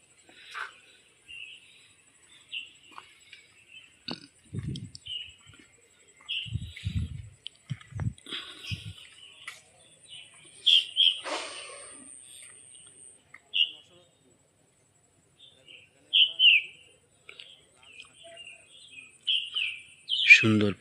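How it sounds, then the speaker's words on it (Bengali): Small birds chirp and tweet outdoors in short, scattered bursts of bright calls, some close and loud, with a few brief low muffled sounds in between. "সুন্দর পাখির আওয়াজ।"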